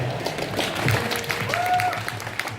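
An audience at a Digitizer panel at London Play Expo 2018 gives a round of applause, a steady wash of clapping mixed with voices and a faint tonal sound.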